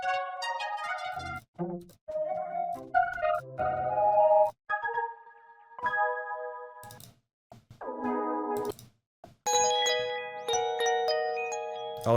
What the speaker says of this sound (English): I kind of want like a bell-ish sound,